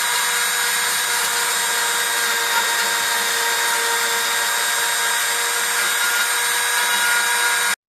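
Cordless drill spinning a 20 mm Forstner bit into a door, a steady high-pitched whine with grinding cutting noise running loud and unbroken for about eight seconds before stopping abruptly.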